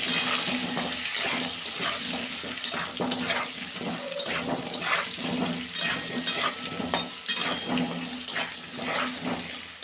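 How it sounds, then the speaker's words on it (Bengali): Potato pieces fry with salt and turmeric in a pan as they are stirred, a continuous close sizzle broken by repeated scraping and tossing sounds, no one speaking. "আমি আলুটাকে ভালো করে ভেজে নেব।"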